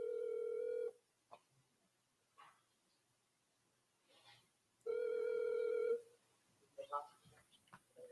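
A telephone call rings out while someone waits to leave a voicemail. Two long, loud electronic ring tones sound about four seconds apart, with faint clicks and rustles in the gaps.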